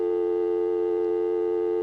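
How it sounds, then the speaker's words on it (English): A telephone line gives a steady, unbroken dial tone, loud and close, with no other sound over it. "you would get this kind of a dial tone, and every 15 seconds it would do that"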